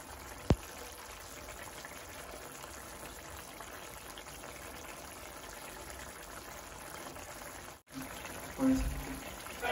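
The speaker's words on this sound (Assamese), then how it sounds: "এতিয়া সুন্দৰকৈ উতলি আছে" Jackfruit seed and fish khar simmering in a pot in an Assamese home kitchen, a steady bubbling and hissing boil that runs continuously, briefly interrupted near the end by a knock and a short rustle.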